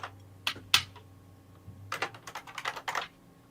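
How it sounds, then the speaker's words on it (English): Quick bursts of typing on a computer keyboard during a late-night live stream, a few isolated keystrokes followed by a denser run of clacks, close and fairly quiet. "I do love the sound of your keyboard, Fox."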